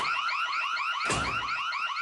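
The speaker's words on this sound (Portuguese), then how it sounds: "Saída de emergência. O alarme soará." An emergency exit door alarm in an animated comedy, a loud, continuous, rapidly warbling electronic wail with a brief thump partway through.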